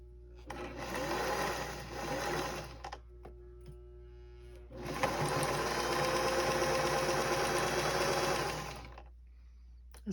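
A sewing machine stitches fabric for a star table topper in two runs, a close, steady mechanical whirring buzz lasting a few seconds each, separated by a quiet pause.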